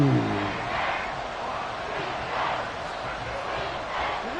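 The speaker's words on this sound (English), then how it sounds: "the crowd getting into it as we come up on a big 3rd down" A football stadium crowd roars and cheers steadily before a big third-down play, a dense, distant-sounding swell of many voices that rises and falls in waves.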